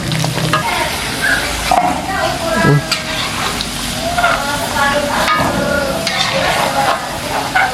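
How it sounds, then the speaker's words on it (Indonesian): Jengkol beans fry in a pan with a loud, steady sizzle and crackle, stirred now and then with scraping and clinking, close and continuous. "Kalian kita goreng jengkolnya."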